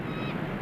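A single short gull call at a fishing run, a brief nasal squawk heard close and alone without talk.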